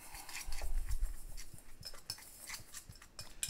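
A dry rub of chipotle chili powder, cumin, granulated onion and black pepper is mixed in a bowl, giving close, quick clinks and scrapes of a utensil over a few seconds.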